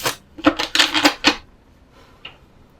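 A deck of tarot cards being shuffled, a fast run of crisp riffling flicks up close that stops abruptly, followed by a few faint taps, with no talking.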